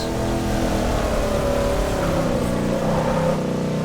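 A Chrysler 300 engine revs hard in the Forza racing game, a loud, sustained drone climbing steadily in pitch along a straight line run, heard alone without talk.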